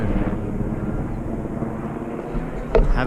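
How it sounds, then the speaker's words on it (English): A helicopter passes over a Himalayan trekking trail on the Manaslu Circuit in Nepal, a steady low rotor and engine rumble heard at a distance, mixed with wind, with a brief sharper knock near the end. "Helicopter."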